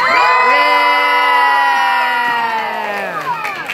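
A group lets out a loud, sustained cheer, many voices yelling together for a few seconds before trailing off.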